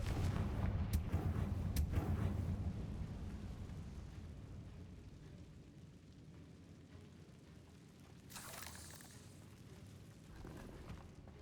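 A Confringo fire-blast spell explodes in Hogwarts Legacy, a loud booming burst at the start that rolls into a long, fading rumble, with a second sharper blast flaring near the end.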